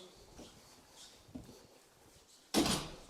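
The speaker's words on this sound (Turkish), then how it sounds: "Ben hemen kapıyı kapatıyorum." A villa entrance door is pulled shut with a single sharp bang near the end, preceded by faint shuffling and handling sounds indoors.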